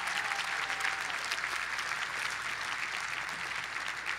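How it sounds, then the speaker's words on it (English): Commencement audience applauding the teachers, sustained dense clapping from a large crowd, fairly distant and even throughout. "Give the teachers a round of applause"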